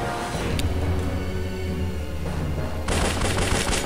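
Dense bursts of double-pistol gunfire in the game Larva Mortus crackle continuously, rapid overlapping shots with a brighter, louder burst near the end.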